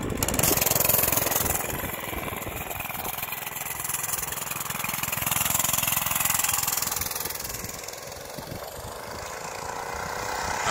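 Mega Moto 105 minibike engine runs continuously at a distance, its drone rising and falling as the governor kicks in, a steady mid-level buzz with no talking.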